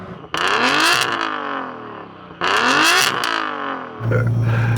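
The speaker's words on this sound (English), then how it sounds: "Go on, Yanni, rev up your car." Car engine at a drag race meet revving hard twice in close succession, each rev rising and falling sharply and loud, followed by a lower idle rumble.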